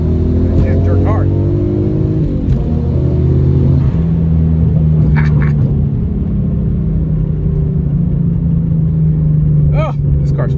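A TT V6 car accelerates hard under full throttle, with a loud, close engine roar that drops sharply at two no-lift shifts through second and third gear before pulling on steadily. Voices can be heard faintly in the cabin.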